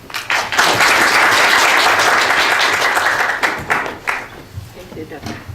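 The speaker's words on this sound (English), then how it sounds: "So I would like to ask you to welcome her with warm applause." An audience gives warm applause for a speaker at a presentation, a loud, dense burst of clapping that holds for several seconds before thinning into a few scattered claps.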